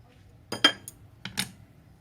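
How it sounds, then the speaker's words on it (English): Cutlery clinks twice against a plate while cutting open freshly cooked chicken siu mai dim sum, two short, close, moderately loud scrapes about three quarters of a second apart, in an otherwise quiet kitchen. "Now I'm going to cut open and show you."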